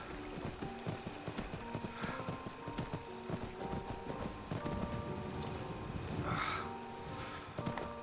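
Steady horse hooves clip-clop at a walking pace over a rumbling Skyrim game soundscape, with a brief breathy snort or whinny near the end.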